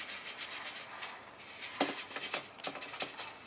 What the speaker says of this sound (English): I'm going to just rub the seeds over the grill